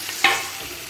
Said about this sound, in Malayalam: ഇതിലേക്ക് നമ്മൾ ഗ്രേറ്റ് ചെയ്ത് വെച്ചിട്ടുള്ള ഈ ബീറ്റ്റൂട്ട് ഇടുകയാണ് ചെയ്യുന്നത്.